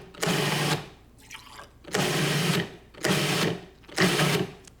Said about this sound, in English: I'm going to pour in a little bit of water through the feeder, just enough to make it blend and chop.